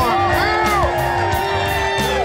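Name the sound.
crowd cheering for fishing tournament champion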